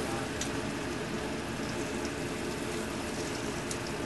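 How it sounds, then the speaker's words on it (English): Thinly sliced meat searing fast in a very hot pan with garlic and sun-dried tomato oil, a steady dense sizzle that stays even and fairly loud throughout, with no voices over it. "the only thing we want to do here is just give this a very quick saute"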